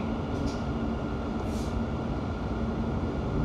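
Steady, loud rumble of a London Overground train running toward Gospel Oak on the Goblin Line, heard from inside the carriage with faint hissy bursts over the continuous roar.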